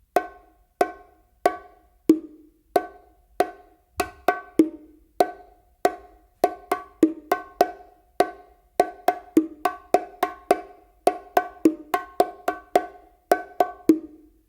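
Bongo pattern with open tones on the macho, a steady run of crisp, bright hand strikes in a syncopated groove, close and dry with short ringing decays, played alone without talk.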